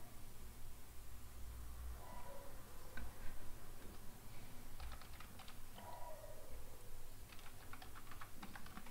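Code being typed on a computer keyboard, with soft irregular clicks of keystrokes coming in scattered bursts over a faint steady hiss, close and quiet with no talking.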